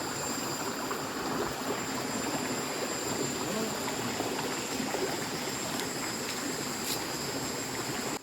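A small waterfall stream on a forest trek in Kerala flows in a steady, dense rush of water, close and continuous across the whole stretch with no voices.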